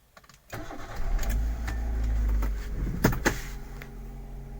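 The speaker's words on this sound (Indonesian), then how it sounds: "pada putaran ketiga ini mobil sudah hidup ya, sudah nyala" An automatic car's engine cranks and fires into life on the third key turn, a rising start followed by a steady near idle with a couple of brief clunks.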